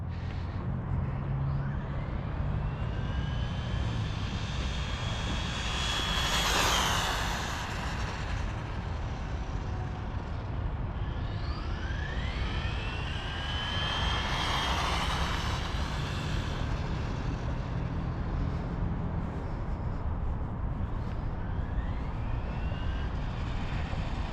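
A Traxxas Bandit RC car fitted with a high-speed pinion makes a long top-speed run, its thin electric whine swelling and falling as it passes by twice, faint against a steady outdoor background.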